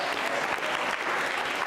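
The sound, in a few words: audience applause for quiz contestant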